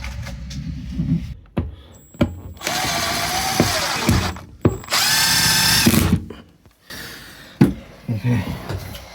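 A cheap power drill drives screws on boat work in two sustained whirring bursts of about a second each, with clicks and handling knocks around them and a voice talking in between.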